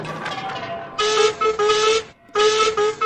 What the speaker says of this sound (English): The engines punctuated the music with their whistles.